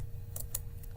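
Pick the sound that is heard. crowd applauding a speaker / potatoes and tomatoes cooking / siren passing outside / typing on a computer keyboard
typing on a computer keyboard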